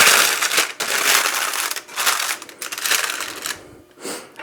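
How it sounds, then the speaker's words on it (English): Parchment paper crinkles and crumples loudly up close as its sides are pushed down around a freshly baked no-knead bread loaf, in several rustling bursts with brief pauses. "We're going to push down the parchment sides."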